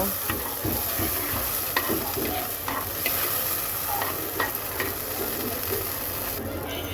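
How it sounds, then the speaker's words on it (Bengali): Yardlong beans fry and sizzle steadily in a pan with a little salt, with occasional scraping stir clicks from a utensil throughout, close and continuous with no talking. "বরবটিগুলো খুব সুন্দর করে ভেজে নেব"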